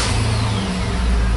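A Chevy 6.0L engine with cylinder 1 and 6 misfires runs loudly and steadily up close, giving a dense, even rumble throughout with no pauses.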